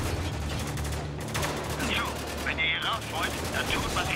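Dense, rapid gunfire from the Spec Ops The Line video game crackles continuously, a close fusillade of overlapping shots over a low rumbling battle backdrop, with a voice briefly audible.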